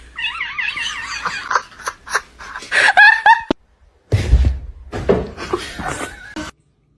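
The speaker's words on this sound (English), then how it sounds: "Look at this little kitten." A small kitten meows repeatedly in high, wavering cries at close range, followed by a quiet gap and then shuffling, laughter-like sounds and rustling nearby.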